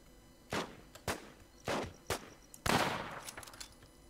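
Five sharp gunshots from the online zombie survival game The War Z, fired in a forest, spaced irregularly across a few seconds, the last one louder with a longer trailing echo, with no talking over them.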